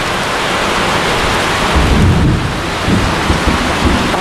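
Heavy rain pounds down in a dense, steady roar while deep thunder rumbles through, swelling loudest partway through during a flooded downpour.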